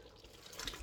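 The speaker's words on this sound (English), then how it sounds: "we'll now pour in our rice." Washed rice poured into a pot of Nigerian party jollof rice, a soft wet pouring and splashing rush that swells briefly, close and fairly quiet.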